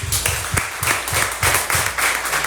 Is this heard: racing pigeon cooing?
no